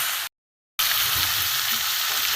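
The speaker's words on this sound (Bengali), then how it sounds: "এবার এটাকে ভালো করে কষতে হবে।" Chicken with grated ginger frying and being stirred in a pan for a Bengali panch phoron chicken dish: a steady, close sizzle with a brief break near the start, then continuous hiss and faint scraping.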